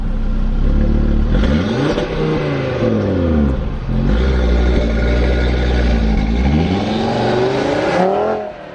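A 2021 Audi RS3 engine revs hard several times, pitch sweeping up and down, loud and close with no talking.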